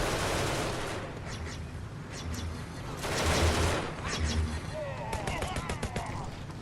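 Turret gunfire in the space game Genesis Alpha One, bursts of rapid shots and blasts coming and going, with someone talking over the action.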